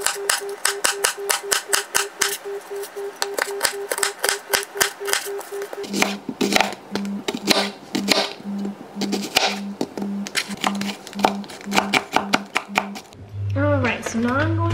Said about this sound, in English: I am literally just like dicing it into whatever I think is good